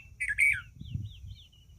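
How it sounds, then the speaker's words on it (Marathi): Birds singing from a tree, a few clear chirps and whistled phrases close by, then softer repeated notes over a low outdoor background with no talk. "पक्ष्यांचा मंजूळ आवाज"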